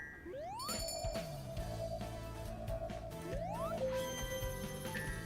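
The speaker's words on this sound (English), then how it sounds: "Now ring the bell." A chiming bell effect in the Sonic Generations video game rings out with rising electronic sweeps and a sustained tone, then sounds again partway through over layered game tones, without voices.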